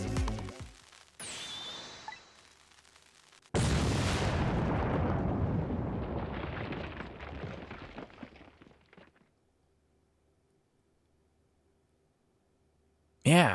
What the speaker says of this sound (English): So we let the explosion happen